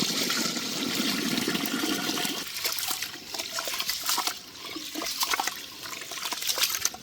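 Raw rice and toor dal are washed in water for bisi bele bath, giving a rushing, sloshing pour that fades into softer trickles and swishing splashes, close by and with no speech.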